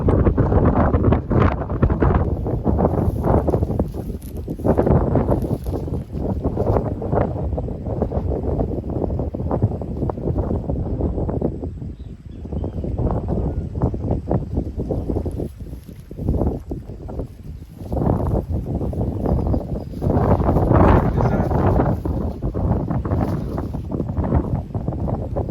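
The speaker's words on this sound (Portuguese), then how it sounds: "muito vento aqui" Strong wind roars and buffets the microphone on a fishing boat out on the water, a loud continuous rumble with gusting surges throughout, no talk over it.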